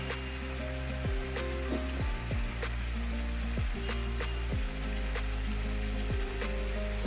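Vegetables including unboiled cauliflower cook in a spice mix for vegetable biryani, frying with a continuous loud sizzle. Periodic scraping clanks from stirring break in every second or so.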